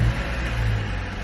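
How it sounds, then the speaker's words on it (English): A 2013-2014 Subaru Impreza engine runs with a loud, close, steady low rumble, heard alone as it settles after starting. "Let's start it back up one more time."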